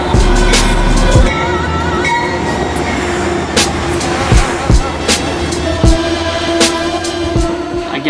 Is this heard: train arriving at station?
yes